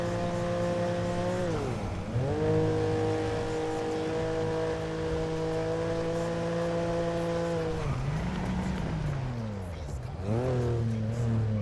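A BMW engine sound in a racing game revs and holds a steady drone, dipping and climbing again through several gear changes, with a faint tire squeal.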